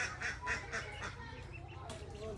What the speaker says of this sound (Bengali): এই যে চীনা হাঁসের বাচ্চা আব্বু কিনে নিয়ে আসছে